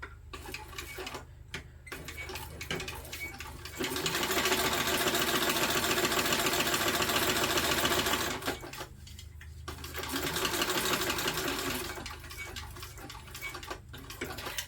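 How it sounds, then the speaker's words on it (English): A sewing machine stitches a bag seam in long continuous bursts: a fast, even mechanical whir that runs for several seconds, pauses, then resumes more briefly, with quieter handling noise between runs. "Now, I'm not going to sew all the way to the very end."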